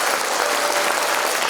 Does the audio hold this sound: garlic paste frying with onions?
no